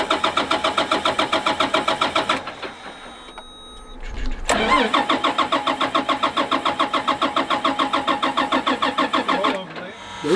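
A car engine cranks with a fast, rhythmic chugging starter, pauses, then cranks again in a long steady run without catching, loud and close, after the clutch is pushed in.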